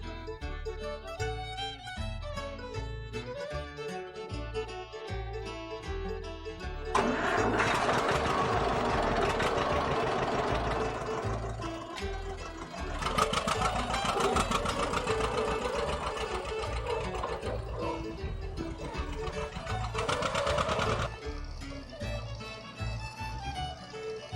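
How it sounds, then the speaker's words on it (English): A 1959 John Deere 630 tractor engine runs steadily, a close, loud, rhythmic thumping idle that swells louder in the middle and holds a regular beat throughout. "Bill also has fun with a 630 made in 1959"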